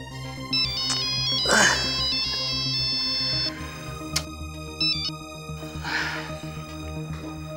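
Phone ringtone as a call goes through, a bright repeating electronic melody sounding steadily, with a brief voice and rustling over it partway through.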